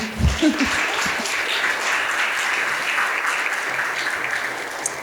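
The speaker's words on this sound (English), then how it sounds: "I wouldn't mind a little round of applause for those two." A room full of people applauds warmly, a steady wash of clapping that holds evenly for several seconds.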